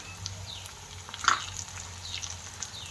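Green chili and cumin powder fry with lightly browned onions in a pan for chana dal, giving a quiet, steady sizzle with one brief louder crackle near the middle.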